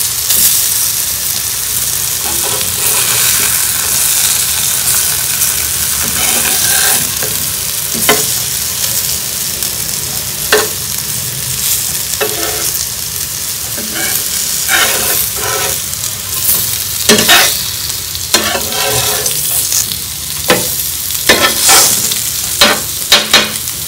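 Slices of surmai (kingfish) fry in hot oil in a pan, giving a steady close sizzle with crackling pops and brief stirring or turning clatters throughout.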